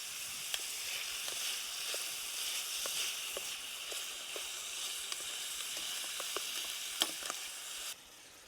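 Pork fries in a pan on a Trangia camping stove outdoors, a steady, even sizzle with scattered small pops and crackles, close and continuous until it suddenly drops off near the end.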